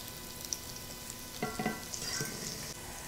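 Corn fritters sizzle in a pan, a soft steady frying hiss with a few light scrapes or taps partway through, close and quiet with no talk.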